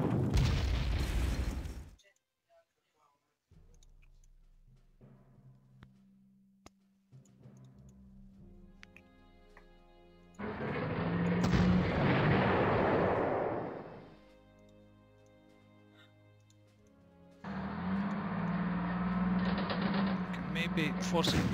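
In the WWII strategy game Panzer Corps, on the Sealion Bristol scenario, artillery fire plays as long booming, rumbling bursts separated by quieter stretches, with a voice talking over parts of it.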